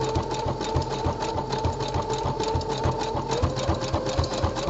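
Sewing machine running steadily as it topstitches a decorative seam on sportswear fabric, the even mechanical whir and rapid needle rhythm continuing close and loud throughout with no talk.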